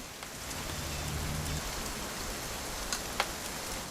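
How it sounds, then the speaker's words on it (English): Steady rain falls throughout a scene in the video game What Remains of Edith Finch, a dense hiss of drops on surfaces with a low rumble early on and a couple of sharper drips near the end. "It's gonna rain the whole weekend,"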